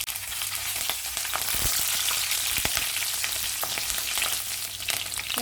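Green chillies fry in sesame oil with urad dal and mustard seeds, giving a steady hissing sizzle close by, broken by a few brief crackles and pops, with no talking.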